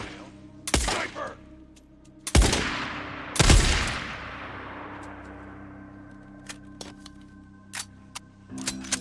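Sniper fire in the video game Days Gone: three loud, sharp rifle cracks spaced a second or two apart, each with a long rolling echo, followed by fainter scattered clicks and thin distant shots.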